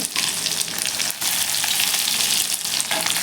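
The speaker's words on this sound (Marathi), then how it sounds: "बारीक कट केलेला लसूण आहे तो घालून घ्यायचा आहे" Loud, dense sizzling and crackling of chopped garlic hitting hot oil, continuous and close, with a brief dip in the hiss.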